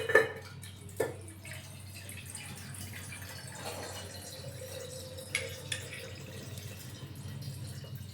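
Water added to strained tamarind juice for Ugadi bevu bella panaka: a few faint, separate drips and small splashes over a quiet background.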